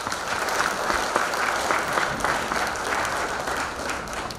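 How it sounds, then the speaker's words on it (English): Audience applause at the GCA Awards 2017, a Guyanese community event in the United States: a full, sustained round of clapping from a large crowd, steady and even throughout with no break. "Please give them and yourselves a big round of applause."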